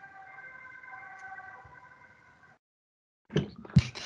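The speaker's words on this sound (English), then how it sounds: "there's the ambulance" An ambulance siren sounds as a steady, moderately loud wail for about two and a half seconds, then cuts off into silence. Brief louder noises follow near the end.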